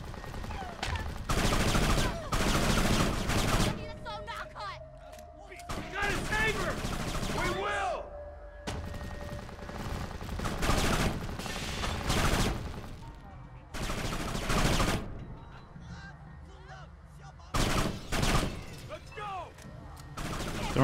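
Heavy gunfire rattles through a firefight in the video game Kane & Lynch 2, with loud repeated bursts of automatic shots and brief lulls, under shouted voices throughout.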